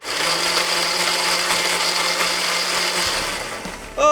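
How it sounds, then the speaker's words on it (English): A kitchen blender runs steadily for about four seconds while making a smoothie, a loud, dense whir that tails off slightly near the end. "while I make a smoothie"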